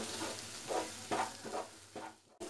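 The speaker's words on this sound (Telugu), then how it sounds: "దీనిలోకి టొమాటోలు యాడ్ చేస్తాను. మనం చేయి తీయకుండా ఇలా కలుపుకొనే ఉండాలి." Tomatoes for mushroom masala curry being stirred in a frying pan, with soft, fairly quiet sizzling and several rhythmic scraping strokes of a spoon over a couple of seconds.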